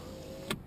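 A quiet interior hum in a 2001 Mazda Protege ES with a 5-speed manual, then a short electric whir of the power window motor going down near the end.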